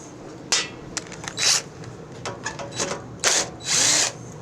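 A power tool backs out the carburetor studs on a Craftsman riding mower, whirring up in several short, loud bursts separated by pauses.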